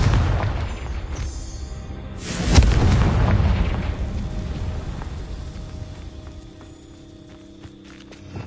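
A Confringo explosion spell is cast in the video game Hogwarts Legacy: one sharp, booming blast lands partway through, then rumbles and fades over a steady, busy ambient bed.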